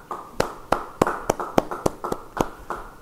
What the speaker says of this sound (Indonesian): Yang percaya beri tepuk tangan.